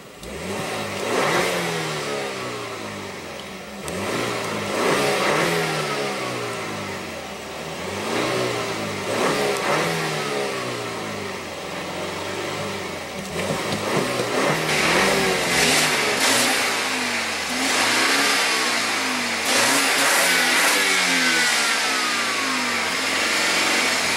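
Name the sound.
sports car engine revving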